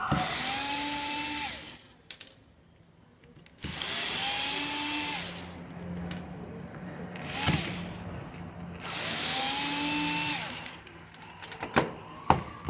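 Power screwdriver backing screws out of a vapor leak detection pump from a 2011 BMW 128i on a bench, three whirring bursts with rising-then-falling pitch separated by pauses and small clicks of parts.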